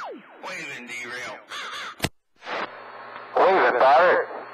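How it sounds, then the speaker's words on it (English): Several crow caws come through a radio channel between bursts of crackly, filtered radio chatter, the calls short and harsh and rising above the static. "I heard the crow."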